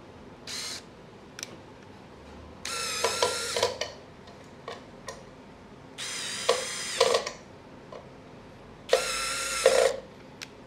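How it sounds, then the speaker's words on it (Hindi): A Ballorex KS-21VD brushless cordless drill running with a flexible shaft attachment, whirring in three short bursts separated by quiet gaps with small clicks, close and fairly loud. "अगर हम ड्रिल के साथ करें क्योंकि ड्रिल हमारी इसके अंदर जाएगी नहीं तो फ्लेक्सीबल रोड इस काम आती है"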